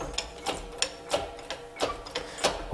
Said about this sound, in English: when I start to pump that, this my hydraulic cylinder in here, this part, this moves up in that way